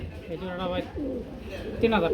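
Pigeons coo at a wholesale pigeon market, with soft bird calls mixed under close-up human talk.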